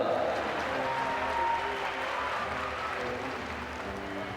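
A crowd applauds and cheers steadily at the finish of a swimming race at the ASEAN Para Games, the sustained clapping ringing through an indoor pool hall at moderate distance.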